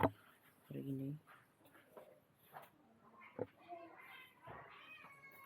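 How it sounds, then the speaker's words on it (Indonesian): Cats meow a few times, short faint cries scattered among quiet background sounds and a person talking softly, in a home setting while the cats are given water. "Lihat kucing-kucing."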